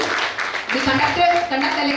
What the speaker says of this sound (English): I want all of you to give a big round of applause to sir.